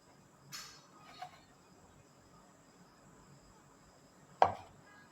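A knife cutting dough into medium pieces for a chakolya dish, three sharp chopping taps against a board, widely spaced, close but faint over a quiet background.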